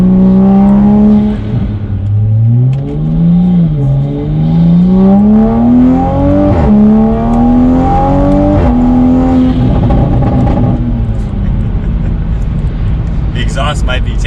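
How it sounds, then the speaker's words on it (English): Toyota Supra with a metal turbo inlet pipe revs loud and close, engine pitch climbing and falling through several sweeps with strong induction noise, then settling toward idle. "there's definitely a little bit more induction noise"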